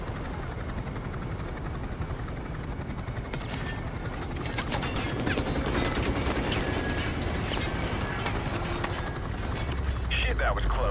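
Sustained automatic gunfire and explosions roar from a helicopter-borne firefight in Call of Duty Modern Warfare Remastered, a dense continuous barrage with sharp bursts near the end.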